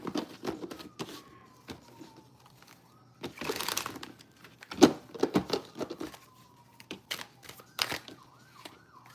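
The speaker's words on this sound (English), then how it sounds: "All right, I'm shuffling up." Tarot cards are shuffled in scattered bursts of soft slaps and riffles, close by, mixed with handling noise and a faint background tone that drifts in pitch.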